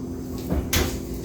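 An oven door closes on salmon fillets baking at 375 degrees, a single close thump with a brief clatter, alone in a quiet kitchen.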